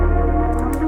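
Dry R&B sample with no tape emulation applied: a steady sustained chord pad over a pulsing low bass tone, clean and continuous for a second, with faint higher ticks near the end.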